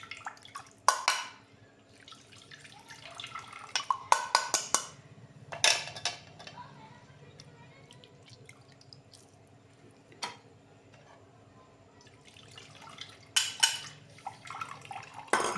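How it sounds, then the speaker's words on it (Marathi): Tamarind water strained into a vessel for a chilled tamarind sherbet, heard as soft intermittent drips and light clinks of utensils, close and fairly quiet with pauses between, and no talking. "एका भांड्यात आपण ते पाणी गाळून घेऊया"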